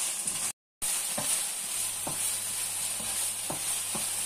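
A tomato sauce mixture is stirred in a pot, giving a faint, steady bubbling sizzle with soft scraping taps at irregular intervals and a brief dropout near the start.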